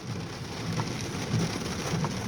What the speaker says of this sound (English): it's just little bits of rain on the window right now